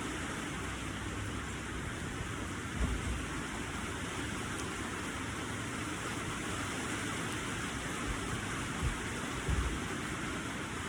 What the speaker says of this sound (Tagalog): Umuulan na naman mga idol